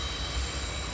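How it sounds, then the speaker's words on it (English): Steady rumbling roar of a train rolling past, with a faint metallic whine on top, continuous and fairly distant. "That's definitely a train."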